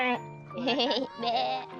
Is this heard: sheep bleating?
yes